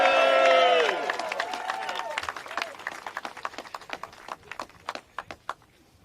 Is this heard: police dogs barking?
no